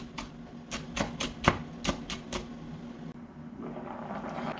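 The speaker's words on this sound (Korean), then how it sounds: "파는 굵직굵직하게 이렇게 썰어줘요" A knife chops green onion into thick chunks on a cutting board, about eight firm, evenly spaced thuds over a few seconds, close and clear, while making a spicy rockfish stew. Faint kitchen sounds follow.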